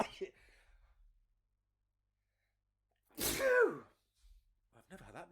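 A single loud, close sneeze bursts out after a stretch of silence, with a brief bit of speech before it and some breathy vocal sounds just after.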